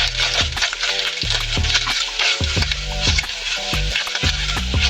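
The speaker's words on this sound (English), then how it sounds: "So we need to make sure that our onions are caramelized. Our onions need to be brown in color. So we're just going to let it simmer for a bit." Onions caramelizing in a pot for a toasted cheese and onion sandwich, with a steady, close sizzle and a spoon stirring through them in repeated strokes.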